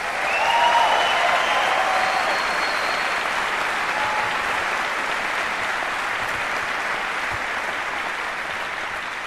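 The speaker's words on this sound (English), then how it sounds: "Please, a round of applause for them." Audience applause for the Air Force Band at the International Trumpet Guild 2018 Conference, a dense, sustained ovation that swells quickly and holds steady for the full stretch with no talk over it.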